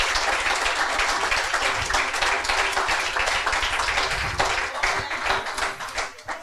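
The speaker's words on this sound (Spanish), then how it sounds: "Dale un fuerte aplauso a Jesucristo." A church congregation breaks into loud, sustained applause during a Spanish-language sermon, dense clapping filling the space continuously without letting up.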